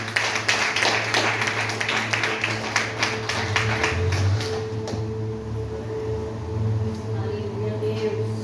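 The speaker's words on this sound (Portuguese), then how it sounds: "Dê uma linda salva de palmas para Jesus." A church congregation claps together in quick, rhythmic applause for several seconds before it thins out, leaving a low sustained hum and faint sounds in the hall.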